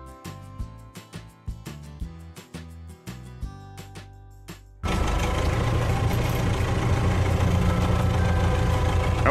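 A toy tractor pulling a trailer on a farm rolls up with its engine running, a steady, loud drone that cuts in abruptly halfway through, after a stretch of plucked, tinkling sounds.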